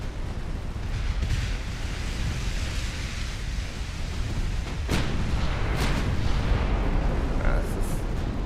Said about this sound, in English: Oh, we detonate all your torpedoes.